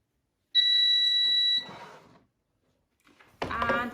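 A quick series of shrill electronic beeps from an air fryer toasting bread pulses for about a second, followed by a short pause and then a voice speaking.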